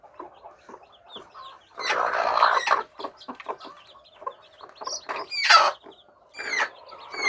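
An angry Siruvidai mother hen, a native country breed on a farm with her chicks, clucks in sharp, agitated bursts, rising to loud squawking calls at intervals, with no talking.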